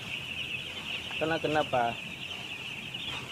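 Broiler chickens in a poultry house give a short run of clucks over a constant high mechanical hum, and a person speaks briefly nearby.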